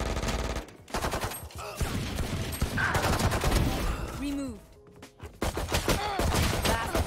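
Phantom rifle bursts from Valorant gameplay crackle in rapid automatic volleys, loud and close, broken by short pauses, with game effects and a voice talking in between.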